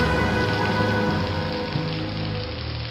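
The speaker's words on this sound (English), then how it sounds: "the clouds start to rain lightly" Light rain falls steadily outdoors on a street, a close, dense and even hiss of drops with no voices, holding constant for the whole short stretch.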